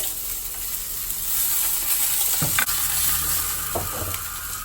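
Sliced onion and curry leaves go into hot oil with ginger, producing a steady frying hiss broken by a few clanks and scrapes of a spatula against the pan.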